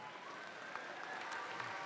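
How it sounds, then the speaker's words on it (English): Audience applause for competing robotics teams at a FIRST district event in Chelsea, a steady, fairly soft wash of clapping that fills the whole stretch without a break. "Let's have a round of applause for all the teams competing here in Chelsea."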